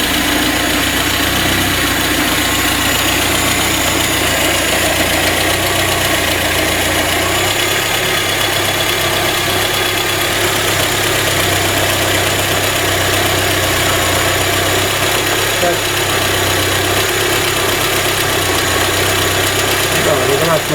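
Car engine with about 185,000 km on it, rough-running, knocking and burning oil, idling at roughly 1100 rpm just after an ignition timing adjustment; a steady, continuous mid-pitched drone with vibration that stays loud and even throughout.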